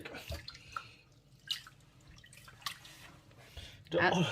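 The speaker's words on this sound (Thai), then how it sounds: "เทน้ำออกแล้วก็ล้างอีกทีนึง" Water is poured out of a container of soaked glutinous rice after rinsing, with scattered drips and splashes followed by a fuller pour at the end; people talk quietly throughout.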